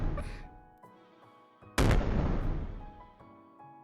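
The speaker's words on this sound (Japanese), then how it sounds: "たまに見る花火もいいものね" A sharp, loud burst crackles and booms after a quieter stretch with a bleating-like tone, then a lingering rumble fades out; a single firework explosion nearby.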